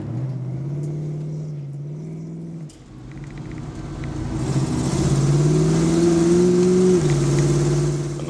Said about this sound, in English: this is a '51 Chrysler New Yorker rally car.